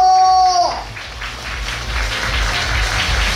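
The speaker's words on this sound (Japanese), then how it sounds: "皆さん大きな拍手で、お迎えください。" Audience applause at an idol performance contest as performers are welcomed on stage, dense clapping rising after a short musical tone fades in the first second and continuing steadily to the end.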